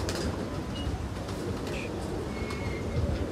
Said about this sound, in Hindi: ये भी काले मुंह वाला कबूतर है।